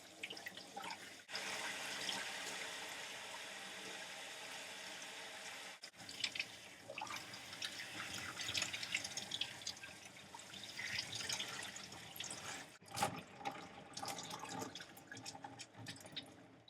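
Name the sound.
water running through a wig while rinsing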